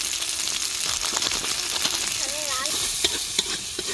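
Ginger paste and cumin powder fry in a pan at an outdoor village picnic, giving a steady close sizzle with stirring scrapes and clicks throughout and a brief wavering whistle-like tone partway through.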